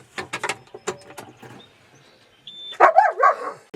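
Dog yipping on a farm, a few sharp high yelps close by separated by short pauses, ending in a louder burst of whiny barks.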